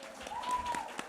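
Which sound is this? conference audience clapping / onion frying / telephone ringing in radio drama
conference audience clapping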